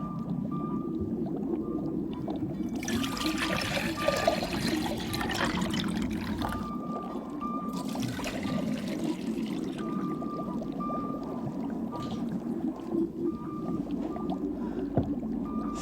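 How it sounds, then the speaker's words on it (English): Displaced water is poured back into a tank beside a floating boat in a buoyancy demonstration, faint splashing pours in two short bursts over a low background hum. "Now I'm going to put the water that we displaced earlier on the other side."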